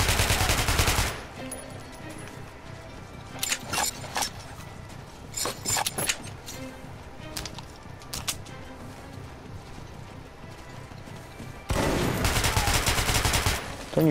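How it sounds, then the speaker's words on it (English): Gunfire in the Metro 2033 Redux video game, with loud bursts of automatic fire at the start and end and scattered single shots in between against a low background. "Couldn't hear you over the sound of me shooting you in the face."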